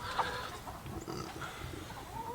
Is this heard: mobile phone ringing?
no